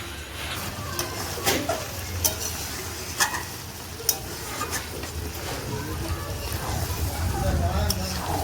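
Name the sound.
chicken curry sautéing in pan with spice paste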